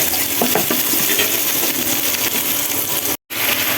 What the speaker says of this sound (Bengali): কোরমার জন্য এখানে পেঁয়াজটাকে ভালো করে ব্রাউন কালার করে ভেজে নেওয়া হচ্ছে।